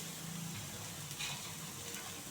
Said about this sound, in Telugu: ఇక్కడ మంచిగా ఉల్లిగడ్డ ఫ్రై అవుతుంటాయి